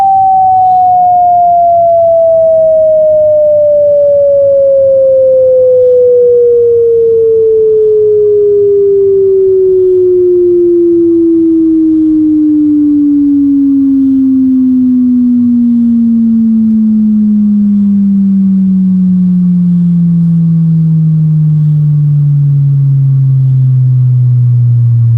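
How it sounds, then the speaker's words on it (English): A pure low-frequency sine test tone plays alone through an Omegapro gaming headset, gliding steadily downward in pitch for the whole stretch, smooth and continuous with a faint low hum beneath. "These that you're about to hear range between 200 Hz and 10 Hz."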